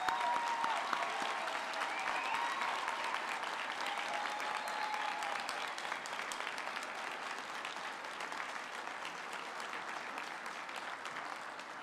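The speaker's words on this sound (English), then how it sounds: "One more round of applause for all of our graduates," An audience at the EPLA graduation ceremony for the class of 2025 applauds its graduates with steady, dense clapping that fills the whole stretch, loud and sustained without letup.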